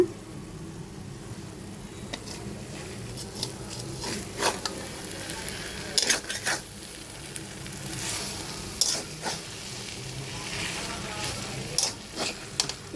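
Oily curry of mashed banana stem and dried fish sizzling in a pan while being stirred, with steady frying crackle and intermittent scraping strokes of the spoon throughout, no voices.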